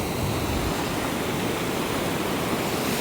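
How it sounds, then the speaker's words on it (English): Steady, loud rush of fast-moving water pouring over a dam in a Long Island park, a continuous broadband roar with no pauses and no voices. "Some pretty fast moving water."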